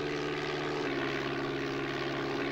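A World War I fighter plane's propeller engine in a DOSBox flight video game, a steady, droning synthesized buzz that runs evenly and loud throughout with no pauses.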